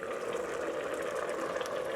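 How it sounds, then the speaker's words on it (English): Carrot and coriander soup bubbling steadily in a pot, a close, continuous simmering hiss with soft popping bubbles and no voices. "See that it's all bubbling away now."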